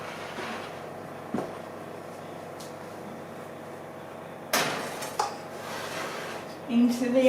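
Glass canning jars, reused mayonnaise and spaghetti sauce jars, clink and knock as they go into the oven, with a few sharp impacts and an oven door sound over a quiet background.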